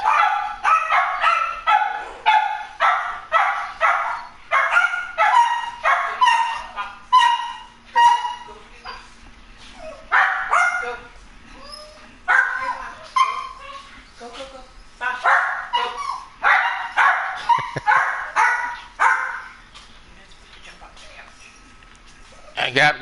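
An 11-pound guard dog barks repeatedly in quick bursts at a knock on the door, loud and close, with short pauses between volleys and a few whimpers; a person talks over parts of it.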